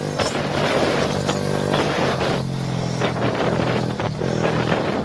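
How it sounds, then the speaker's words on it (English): Two-stroke dirt bike motorcycle engine exhaust, a loud continuous buzzing drone with wavering revs and harmonic tones under dense background noise, fairly close. "That sound you're hearing is the dirt bike motorcycle exhaust,"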